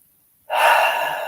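A single deep breath drawn in close after a brief silence, a sharp airy inhale that holds steady for a moment, with no talking.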